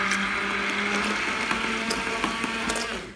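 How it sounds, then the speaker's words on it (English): A small kitchen blender whirring steadily as it mixes egg wash for homemade raisin rolls, a close, continuous motor drone with a rattling buzz that fades slightly at the end, with no talking. "if you have something like this, you know, use the little blender"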